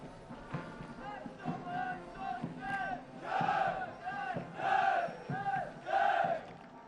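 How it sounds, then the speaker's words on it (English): Massed cadets at a military academy passing out parade shout rhythmic cheers in unison, repeated bursts rising and falling in a steady chant-like pattern outdoors. "They will cheer the cadets of the passing out course."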